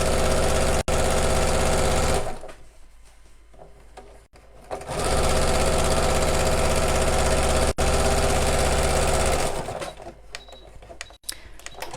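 A sewing machine stitches the side channel of a fabric bag at a slightly longer stitch length, running loud and steady in two long bursts with a short pause between them, and no voices are heard.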